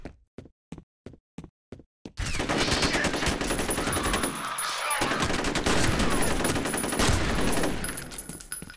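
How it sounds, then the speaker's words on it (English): Assault rifle fire in the shooter game F.E.A.R. Extraction Point: a few spaced single shots, then a loud, sustained automatic burst lasting several seconds, close and dense. "It's an assault rifle?"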